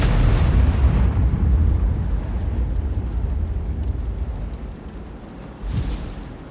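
An M53/M55 8-inch self-propelled howitzer firing in World of Tanks: a loud, heavy boom at the start with a long rumbling decay, then a second sharper blast near the end, with no talk.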